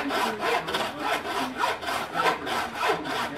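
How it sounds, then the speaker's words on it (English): A hand saw cuts through a whitetail deer skull plate in quick, even back-and-forth strokes, a rasping rhythm of about two strokes per second, close and alone. "Now, this is how I cut antlers with this saw."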